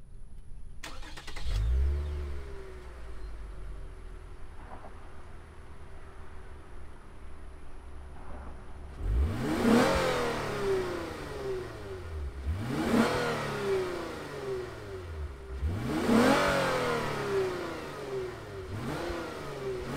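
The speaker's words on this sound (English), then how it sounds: "let's fire up this 2021 IS350 F Sport and hear what it sounds like" 2021 Lexus IS350 F Sport engine cranking and starting, idling quietly for several seconds, then three sharp revs that rise and fall back, heard close with no talk.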